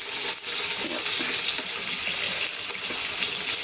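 Tofu frying in a pan on a home stove, giving a steady, dense sizzling hiss that continues evenly throughout with no pauses.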